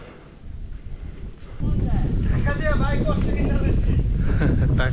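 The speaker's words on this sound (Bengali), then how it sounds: "বাতাস।" Strong wind buffets the microphone on Chandranath hill in Sitakunda, starting lighter and then roaring in as a loud, steady gust that fills the rest of the clip, with a faint voice briefly audible.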